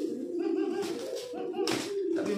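Pigeon bought from a market cooing, a low repeated warbling coo sounding close and fairly steady through the short stretch, with a few brief higher bursts of other sound mixed in.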